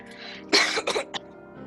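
A person imitates a cough during a tabletop role-playing game session, giving a short, close burst of two or three coughs and a throat-clearing sound.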